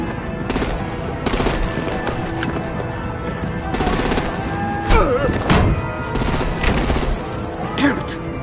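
Heavy artillery and automatic gunfire from the Batman Telltale Series come as loud, repeated bursts of rapid shots with booming thuds mixed in, over about eight seconds.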